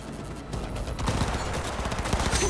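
Sustained rapid gunfire and bullets being deflected on a stairway in the video game Cyberpunk, a dense continuous crackle that grows louder and fuller after the first second, with no talking.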